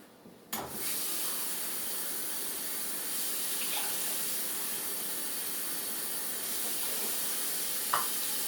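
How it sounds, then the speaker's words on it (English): Water runs steadily from a tap while quinoa is rinsed at a home kitchen sink, a continuous close splashing flow with a couple of brief clinks. "I add the 2 cups of water, and I stir it around, and I pour water off"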